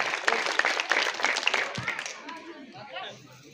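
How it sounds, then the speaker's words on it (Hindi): An audience at a police-run Meri Mitti Mera Desh civic action programme bursts into brisk applause that fades out after a couple of seconds, leaving murmuring and faint voices behind. "तो एक बार इनके लिए सभी के लिए जोरदार तालियां"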